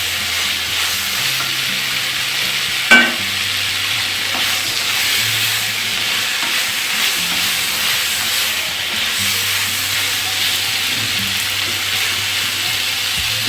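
Vegetables for sambar sauté in a pan with a steady broad sizzle and hiss, stirred throughout, with one sharp utensil knock near the start and faint low hum beneath.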